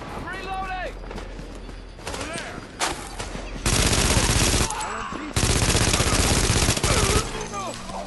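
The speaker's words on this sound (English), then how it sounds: "I forgot that's burst fire" Rapid bursts of gunfire from a weapon in The Division, loud and close, with short clustered volleys separated by brief pauses, alongside game sounds and a talking voice.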